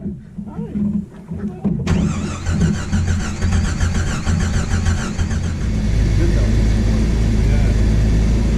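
Jeep YJ engine cranking and catching on a trail, a starter churn giving way to a loud, steady running rumble with a rising idle, while people talk over it nearby.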